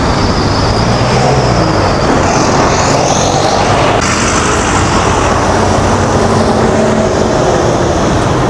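A JJ Kavanagh 735 coach bound for Limerick from Dublin passes on the road, its loud, broad engine and tyre roar filling the scene and shifting in tone partway through, with no voices.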